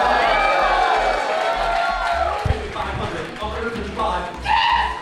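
Crowd cheering during bidding at the MBNMSF Sea Star Gala 2025 charity auction: a busy room murmur and raised voices under an auctioneer calling bids over a steady thumping beat, with a livelier swell near the end.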